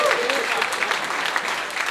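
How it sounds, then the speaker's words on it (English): A comedy-show audience gives a short, steady round of applause, a dense wash of clapping with a voice speaking over it. "Give them a round of applause."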